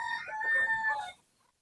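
A rooster crows once, close and loud. The call is a single drawn-out crow that lasts about a second and fades at the end, with no voices over it.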